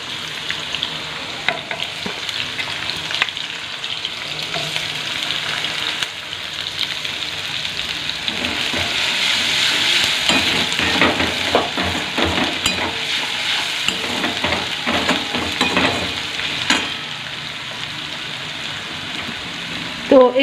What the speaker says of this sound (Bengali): এই তেলের মধ্যেই আর কি আমি দেখো এই রসুন কুচি আর এই আদা কুচিটা আর কি দিয়ে দেবো